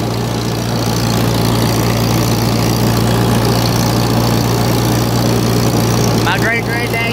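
A Farmall 350 tractor engine runs at a steady low idle, loud and close, with voices briefly audible over the rumble toward the end.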